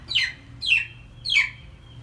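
A distressed hen gives three loud, sharp, descending squawking clucks at even intervals, close by, with a low hum beneath and no talking.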